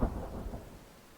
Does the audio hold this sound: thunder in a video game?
yes